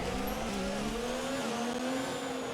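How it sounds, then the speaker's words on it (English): Tyres lock up under braking on a Formula 1 race car in the F1 2019 game, a steady squeal and skid layered over a whining engine note that bends slightly in pitch, heard close and continuous. "Giovinazzi locks it up, and so do I."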